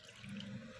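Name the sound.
water poured into ragi jowar dosa batter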